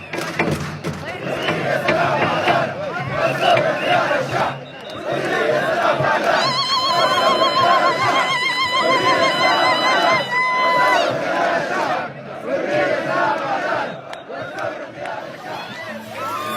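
Protesters at a daily sit-in outside military headquarters chant and shout together in a festive, carnival-like crowd, a loud, dense swell of voices with horn toots and shrill whistling cutting through the middle stretch.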